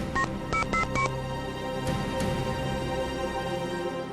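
A telephone is dialed with four quick touch-tone beeps near the start, followed by two fainter tones and then quiet room noise, close and clear.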